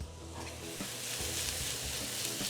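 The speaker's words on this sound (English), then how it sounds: "So our oil's hot. To this, we're gonna be adding our diced onions." Diced onions hit hot oil in a pan and sizzle in a steady, bright hiss that swells slightly, with faint stirring scrapes, close up and without voices.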